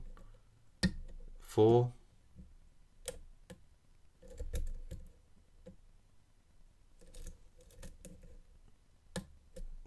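Pins in a vintage Lockwood mortice cylinder lock give sharp, sparse clicks as it is picked, close and distinct at irregular intervals, with someone talking quietly between them.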